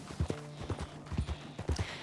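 Horse hooves clip-clop at a steady walking pace in Red Dead Redemption 2, moderately close, with a low hum of background sound and no talking.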